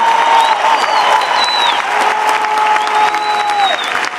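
Dense audience applause fills a Las Vegas company event hall, steady and loud throughout, with a few whistles and cheering voices rising above the clapping.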